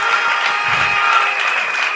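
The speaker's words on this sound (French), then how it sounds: "Applaudissons pour le Seigneur." Applause at a church service for the Lord, a loud, close, steady clatter of many hands clapping together for a couple of seconds.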